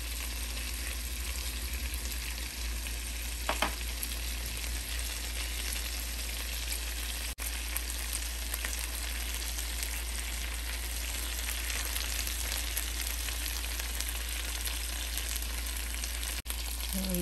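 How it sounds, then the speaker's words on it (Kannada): Honey garlic chicken drumsticks fry in an open pan, turned on both sides, with a steady, even sizzle and faint crackle running continuously at moderate level, no voices. "ಸೊ ಫುಲ್ ಓಪನಲ್ಲೇ 2 ಸೈಡ್ ತಿರುಗಿಸ್ತಾ ಫ್ರೈ ಮಾಡಿದ್ದೀವಿ."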